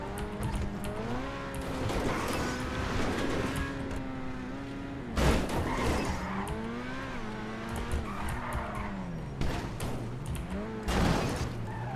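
A car in GTA V drives fast and skids, its engine pitch repeatedly rising and falling with sharp tire squeals and bursts, while people talk over the game sounds.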